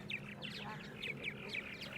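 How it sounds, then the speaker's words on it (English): Many small birds gather at a multi-unit birdhouse, giving quick repeated chirps and squawky calls in a busy, fairly faint chatter. "Look at all those birds."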